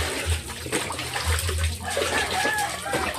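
A weak flow of water runs from a tap into a container, a steady close splashing trickle with a low resonant gurgle as the vessel fills and background voices underneath.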